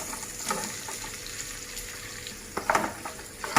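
Garlic and onion frying in a pan for Sri Lankan ghee rice, a soft, faint sizzle with light stirring scrapes and a few clinks toward the end.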